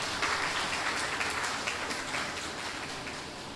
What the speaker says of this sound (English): Let's give Chairman a round of applause.